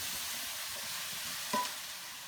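Pork and broccoli stirred in a hot wok, a soft continuous sizzle with one brief scrape of the utensil near the end.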